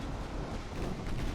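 Secondary guns firing from a warship during a Yamato fleet battle in the naval game Ultimate Admiral: Dreadnoughts. The short stretch is a steady, dense rumble of distant cannon fire with no clear single shots.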